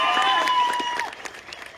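Rally audience applauding for Vikram Sawant, a dense wash of clapping with a whistle-like tone early on that thins out toward the end.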